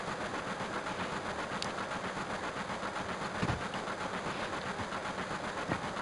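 A moving train in the 1997 game Final Fantasy VII, heard as a steady, dense rumbling roar with constant mechanical noise throughout and a couple of faint knocks, with no speech.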